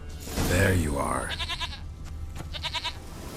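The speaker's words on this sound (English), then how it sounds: "Here, goat." A goat bleats in the video game The Witcher 3: Wild Hunt, a wavering cry coming after a voice, followed by quieter rhythmic rattling.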